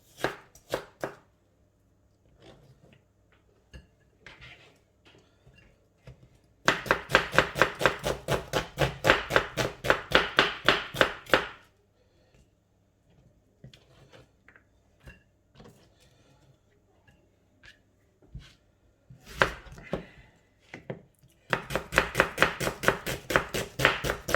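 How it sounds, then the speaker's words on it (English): A knife finely slices two medium onions lengthwise on a board, giving rapid, even bursts of close, crisp chopping separated by quiet pauses. "we get 2 medium onions and we cut them lengthwise really finely"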